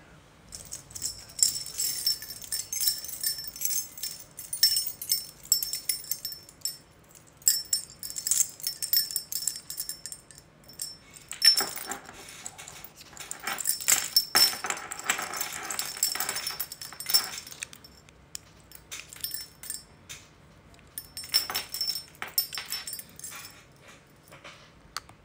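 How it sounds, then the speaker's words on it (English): A set of keys jangles as something is fitted back onto a keyring: bursts of close metallic clinking and rattling separated by quiet pauses. "Now let's put it back on my keys."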